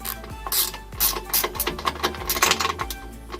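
A ratchet wrench snugging down a bolt on a Frontrunner roof rack mount on a Land Cruiser 100 Series, giving rapid metallic clicks in quick bursts close by, with no talking.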